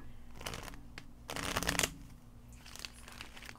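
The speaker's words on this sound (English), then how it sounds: "All right, one more shuffle." Tarot cards being shuffled by hand, a few quick riffling bursts of papery flutter close up, the loudest in the middle, with quiet pauses between and no talking.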